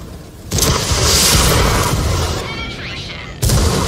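A Wiesel TOW tank in World of Tanks fires and strikes its target: two deep booming bursts with rumbling noise between them, loud and close.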